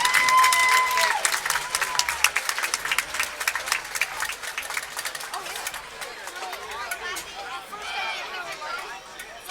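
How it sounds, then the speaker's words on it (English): Stadium crowd applauds the Chesapeake band at a Coal Grove versus Chesapeake football game, a broad spread of clapping and cheering that is loud at first and thins out over several seconds, with crowd chatter underneath. "Let's have a round of applause for the Chesapeake band."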